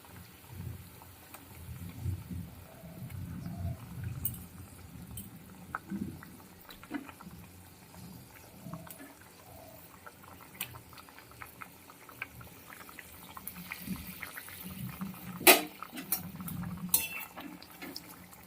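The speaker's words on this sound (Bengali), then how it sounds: "ঝোলটা ফুটে গেছে এবারে ভিজে রাখা পটলটা দিয়ে দেবো এর মধ্যে" Potol curry broth bubbles steadily at a low simmer in a pot, with a constant soft gurgle, a few metallic clinks of utensils against the pan, and a sharper clatter near the end.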